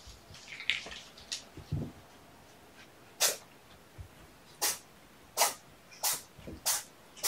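A kitten named Tomato sneezes over and over, about seven short sharp bursts spaced a second or so apart, close and fairly crisp against a quiet room.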